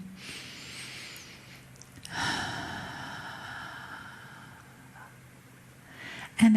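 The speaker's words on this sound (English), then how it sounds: "And have another breath in." A slow, deep breath is drawn in during a guided group meditation, a soft, drawn-out airy inhale followed by quiet breathing and a brief louder rustle at the end.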